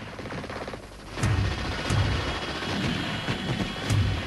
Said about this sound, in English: the Russians unleash a deadly barrage of return fire